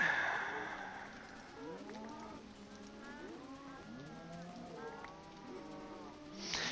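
Several blocky Minecraft-style cows moo repeatedly in a modded game world, their low drawn-out calls overlapping at moderate volume over faint background hiss.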